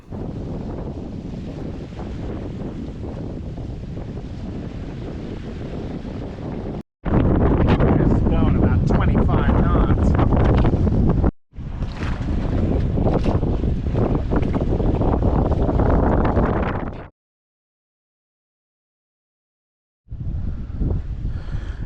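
Strong wind buffets the microphone aboard a sailboat heading out on open water, a loud continuous roar broken by a few short drops and one stretch of near silence before it returns.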